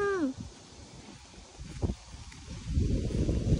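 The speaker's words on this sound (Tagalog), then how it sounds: "Lakas ng hangin" Gusts of strong wind buffet the microphone in low rumbling bursts outdoors in Korea, growing heavier toward the end.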